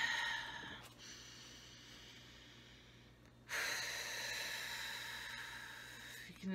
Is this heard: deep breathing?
yes